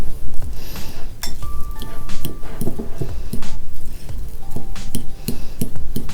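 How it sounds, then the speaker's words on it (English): A metal fork clinks and scrapes against a bowl while mashing and stirring vegan cinnamon roll pancake batter, a quick irregular run of close, bright taps and clatters. "I'm going to start off by like smashing it down with my fork"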